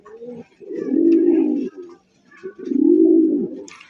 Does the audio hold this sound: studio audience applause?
no